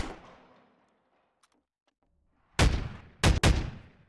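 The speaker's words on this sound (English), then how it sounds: "Gunshots are loud." Gunshots in a prop hunt video game ring out in a few sharp, loud, close cracks near the end, after a fading tail and a quiet stretch.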